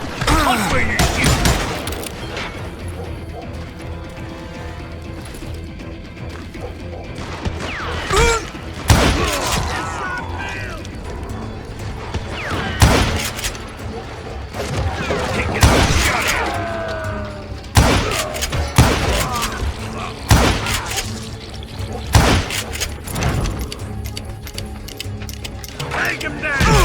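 Gunfire from the video game Call of Juarez: Gunslinger cracks in loud, scattered shots among thuds and mechanical clicks, with in-game voices shouting over the action.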